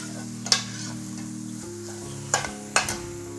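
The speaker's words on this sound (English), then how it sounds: "So we're going to go ahead and add our tomatoes." Chopped tomatoes go into a hot pan already holding chopped garlic, setting off a steady sizzle and stir, with a few sharp clatters from a utensil or pan at the start and near the end; no voices.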